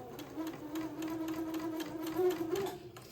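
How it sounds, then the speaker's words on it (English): A sewing machine runs a straight stitch with regular-size stitches along a 1/8 inch sleeve seam of a baby garment, a steady close mechanical whirr with rapid rhythmic ticking that stops at the end. "I'm gonna make a 1/8 inch seam along the side of the sleeve."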